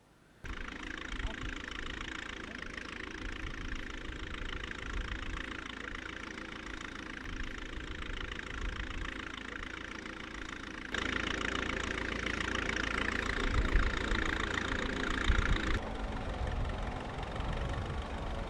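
A steady vintage Ford tractor engine chugs continuously at an even idle, rising slightly in intensity partway through before settling again.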